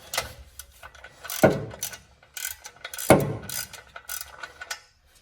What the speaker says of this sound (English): Get my lovely little wrench here and get this one started.